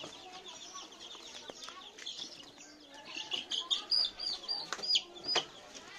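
Chicks peep in a series of thin, high, rapid chirps while being handled close up, growing busier toward the end over a soft background.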